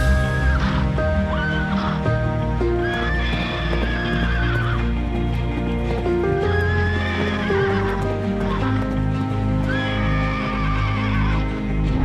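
Horse that lost a hoof and was given a fix, loud repeated neighs and whinnies over steady clip-clopping hooves, close by and continuous with no talking.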